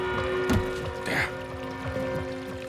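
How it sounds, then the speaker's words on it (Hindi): Running water trickles and pours in a room of the Amar Hotel, a soft, fairly close splashing beneath a steady hum, with brief voices and knocks mixed in. "पानी की आवाज।"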